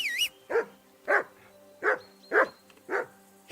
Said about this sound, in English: Whistle at that mutt of yours to stop barking.